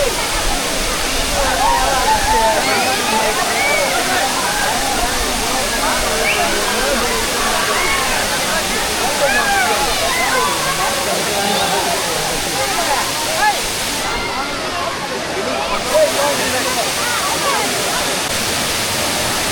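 Jhari Falls pours in a loud, continuous broadband rush of falling water that stays steady and close throughout, with no breaks.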